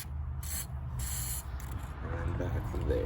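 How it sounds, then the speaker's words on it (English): Short hissing bursts of WD-40 sprayed onto the throttle position sensor of a 1999-2006 GMC Sierra, two or three close spurts over low engine-bay rumble. "I've got some WD-40 now, so I'm just going to hit right"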